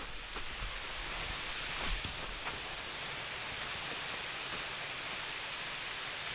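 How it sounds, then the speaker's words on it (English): Bridal Veil Falls pouring into a cave in a snowy landscape, a steady broadband rushing roar that stays even throughout, with no voices. "I have made it over to Bridal Veil Falls"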